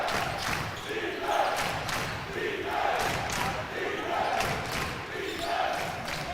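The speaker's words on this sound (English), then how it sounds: "crowd displeased" Basketball crowd in a college gym at a men's game, Yeshiva versus Old Westbury, grumbling and calling out in displeasure, a steady murmur of many voices rising in waves with sneaker squeaks and bounces underneath.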